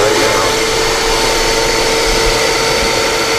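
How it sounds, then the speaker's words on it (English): A shop vac hooked up to a Harbor Freight Hercules miter saw and stand, running with a loud steady whooshing roar and a constant whine throughout. "And I'm going to turn my vac on right now."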